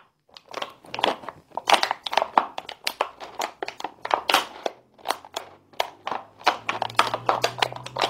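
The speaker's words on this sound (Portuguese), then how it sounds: "Vai cortar a garrafa mais ou menos nessa posição aqui, ó." A plastic bottle being cut up close to make a seedling planter, giving a run of sharp crackling, crinkling crunches in quick irregular bursts with short pauses between them.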